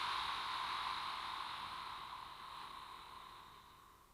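A slow, steady exhale through the mouth, a soft breathy hiss that holds for several seconds and fades gradually toward the end, with no talking.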